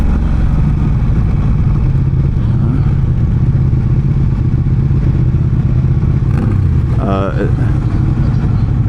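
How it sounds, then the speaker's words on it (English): A motorcycle engine hums steadily up close with constant wind and road noise, a brief clatter and short rising rev near the end; faint voices underneath. "You're on a motorcycle right now"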